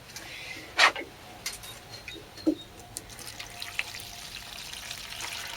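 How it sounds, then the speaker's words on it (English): Water poured at the base of young potted plants, watering them from the bottom; a quiet, faint trickle and splash with a couple of brief louder pours over soft background hiss. "So all I'll do now is I'll give all of these a lovely water from the bottom"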